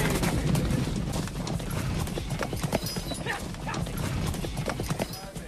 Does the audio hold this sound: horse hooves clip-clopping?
yes